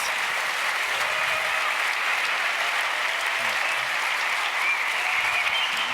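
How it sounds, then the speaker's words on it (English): A forum audience applauds its panelists after a discussion about cypherpunk origins, the clapping steady, dense and sustained for several seconds with no speech over it. "Please give them a round of applause."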